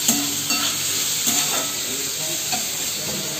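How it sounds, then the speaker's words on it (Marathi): Chopped onion sautéing in a home kitchen pan for a pizza party, a steady close sizzle with repeated stirring scrapes, heard alone without talk. "हे बघा, कांदा परततो आहे"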